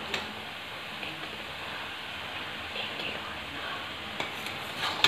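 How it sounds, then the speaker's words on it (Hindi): About a kilo of bathua greens, with salt and green chillies, sautés in mustard oil tempered with cumin, giving a steady, soft sizzle with occasional stirring clicks and scrapes that runs alone throughout. "बस इसे ऐसे ही भूनते रहें जब तक इसका पानी ना छूट जाए, तो ये टेस्टी बनेगा।"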